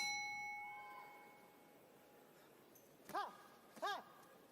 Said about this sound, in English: bell sounds to begin